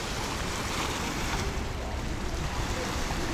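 Sea waves break on a beach in Thailand in a continuous broadband wash, loud and close, with heavy wind buffeting the microphone.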